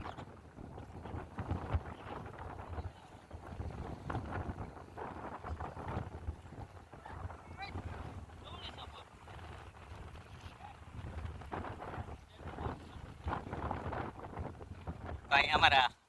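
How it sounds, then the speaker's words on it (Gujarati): Riding aboard a large boat at sea, with wind buffeting the microphone over a low, rolling rumble. The noise rises and falls unevenly and ends with a sharper, louder burst. "અત્યારે આપણે બોટ ઉપર છીએ"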